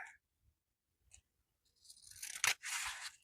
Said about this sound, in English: So I think I'm going to cut here.